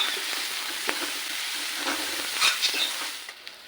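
Masala paste frying for chole curry sizzles steadily in a pan, a close, even hiss with a few faint clinks of a spoon stirring.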